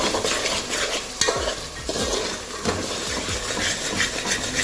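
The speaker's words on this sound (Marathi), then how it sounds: "त्यानंतर यात ती काजूची पेस्ट टाकून घ्यायची आहे. तिलाही छान परतवून घ्यायचं आहे." Cashew paste sautéing in hot oil in a pan for shahi murgh musallam: a steady, close sizzle broken by repeated scraping strokes of a spoon stirring the paste, with no talking.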